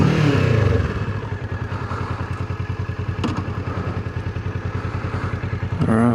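A Kawasaki 650RL (ER6N) parallel-twin motorcycle is ridden at steady speed, its engine throbbing in a fast even pulse, close and loud, with wind rumble and a brief clatter near the end.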